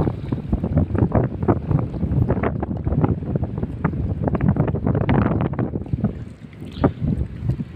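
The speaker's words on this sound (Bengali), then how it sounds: "প্রচুর পরিমাণ বাতাস আজকে" Strong gusty wind buffets the microphone on the Jamuna river during a fishing trip, with loud continuous rumbling and flapping blasts close up, water lapping faintly beneath, no voices.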